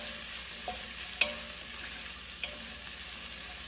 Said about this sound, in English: I'm going to add the garlic and ginger. And saute until they are soft.